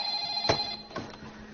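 A telephone rings in an animated comedy scene, a short burst of bright electronic ringing heard twice within about a second and a half, fairly quiet with no talk over it.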